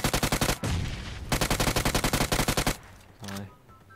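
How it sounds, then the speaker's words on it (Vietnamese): Bot firing an automatic rifle in the PUBG Mobile battle royale game, two rapid bursts of close, loud gunfire with a brief pause between them, followed by a softer thud and a short shot. "Rồi con bot cứ bắn đi."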